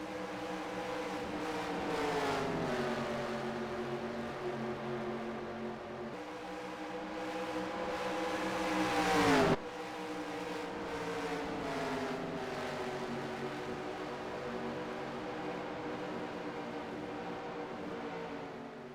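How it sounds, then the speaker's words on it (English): Race cars running side by side at Langhorne Speedway in a 1954 ARCS Cup Series race, engines droning and pitch-shifting as they sweep past, one car's whine peaking and cutting off before the pack noise resumes at moderate distance. "A lot of side-by-side racing"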